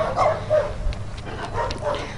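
A dog barks and yips on a walk outdoors, with a few short barks close by over steady background noise.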